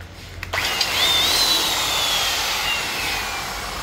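A Hitachi electric drill with a 13 mm chuck spins up after a click and then runs at a steady, loud whine near the microphone, with no one talking.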